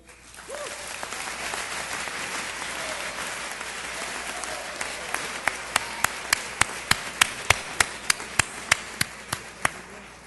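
A crowd at a school assembly applauds steadily, with a single pair of hands clapping loudly and rhythmically near the end as the rest thins out.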